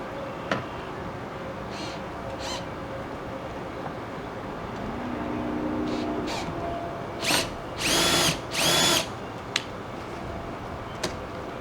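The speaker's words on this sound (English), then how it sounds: "If you take a 7/16 socket and attach it to your drill" A cordless drill with a 7/16 socket turns an RV power awning's retract socket, whirring in several short bursts, a few louder revving pulses near the end, over a steady background hum; nearby and fairly loud.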